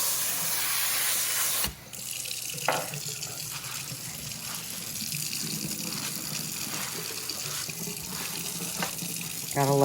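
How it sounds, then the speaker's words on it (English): Water gushes steadily from a tap into a large granite composite kitchen sink as items are rinsed, with a brief break near the start and a few clatters and splashes under the running stream. "I am going to rinse them, give them a really good rinse, and get all that glycerin off."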